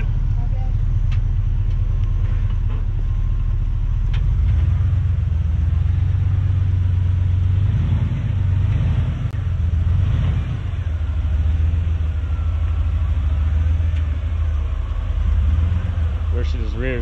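A Red Dot Engineering off-road buggy crawls over sand obstacles at Sand Hollow, its engine a loud, steady low rumble with occasional revs, while people talk over it.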